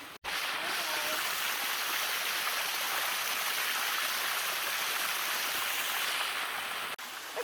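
A steady, loud rush of water pours down a waterfall with a sticky, grippy rock surface near Chiang Mai, Thailand, heard close and continuous with no breaks.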